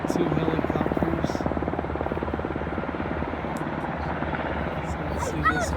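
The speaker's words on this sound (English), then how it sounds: "Two helicopters." Two twin-rotor helicopters hauling water buckets over a wildfire, their rotors making a steady rhythmic thudding drone at middle distance, with brief voices in the background.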